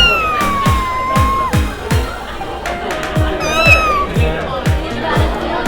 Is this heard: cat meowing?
yes